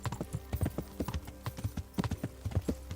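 Horse hooves clip-clop in a quick, steady rhythm in the Kingdom Come Deliverance video game, close and moderately loud, with no talking over them.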